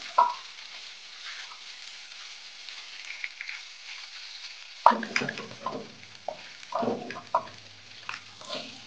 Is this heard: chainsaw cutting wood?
no